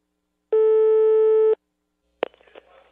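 A single steady telephone tone lasts about a second, then after a short silence comes a brief clatter like a handset being picked up, clear and close.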